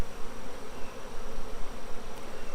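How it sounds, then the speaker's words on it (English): A dense, steady buzzing of many honey bees around an open hive during a summer inspection, continuous and fairly loud with no voices. "See lots of bees with bright yellow pollen"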